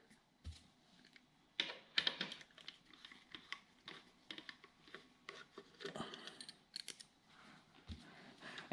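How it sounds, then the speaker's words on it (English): Phillips screws being taken out of the cover on a Lectric XP e-bike, heard as close, scattered clicks, scrapes and rattling handling noises with short bursts, no talking. "I'm gonna take out this cover here with these 4 screws, these 4 Phillips screws"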